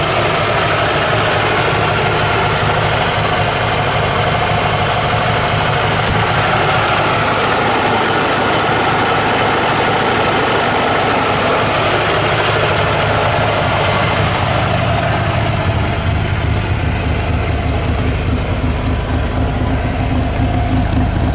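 A vintage Panhard PL17 engine idles and runs steadily for the whole stretch, a low rumbling hum with a slight uneven knock as the engine shakes a little, close by and fairly loud.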